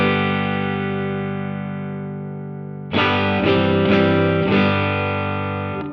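Electric guitar through a Spaceman Equinox EQ pedal set to 3K high boost with bandwidth closed: a sustained distorted chord rings, then fresh strums cut in brighter and louder, heard alone.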